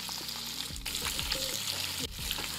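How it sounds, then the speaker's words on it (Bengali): Whole chicken, tied with string, lowered into very hot oil in a wok, bursting into a loud, continuous sizzle with crackling spits and bubbling, two brief dips where the chicken shifts. "তেলটা গরম হয়ে গেছে আর এই যে কড়াইয়ের মধ্যে দিয়ে দিচ্ছি চিকেনটাকে।"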